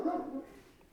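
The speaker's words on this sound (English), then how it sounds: "Excuse the dog. It's an 80-pound dog." Large 80-pound dog lets out a single short bark indoors, faint and somewhat distant, quickly fading.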